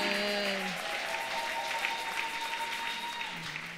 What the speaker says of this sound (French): Acclamez pour cette femme.